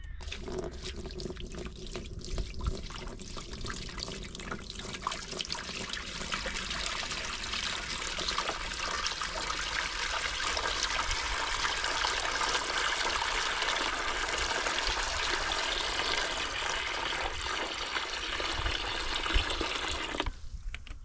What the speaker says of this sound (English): Now we're going to whack some water in, see what happens.